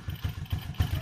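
Motorcycle engine idling during carburetor air-fuel mixture tuning, a steady low rhythmic chugging pulse close by, lasting the whole second with no talk.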